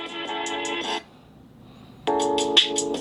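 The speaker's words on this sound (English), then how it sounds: "there goes that notification thing" A Vivo Nex Dual Display phone plays two short bursts of a bright, tonal notification chime separated by about a second of near silence, each burst loud and close.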